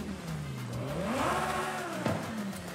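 A Lamborghini Huracan engine revs in Forza Horizon 5 with an aggressive exhaust, rising and falling in pitch as it accelerates, then giving a short sharp bark, fairly faint and without talk.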